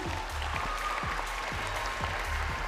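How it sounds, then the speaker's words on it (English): Applause from an audience at a dance competition final on stage, a continuous dense clatter of clapping with a few sharp low thumps mixed in, steady and moderately loud throughout. "It deserves a big round of applause on this stage."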